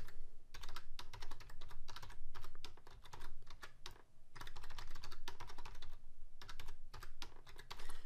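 Steady, close bursts of keystrokes on a computer keyboard as a password is typed during Windows machine setup, rapid clicks arriving in quick runs with brief pauses and no talking.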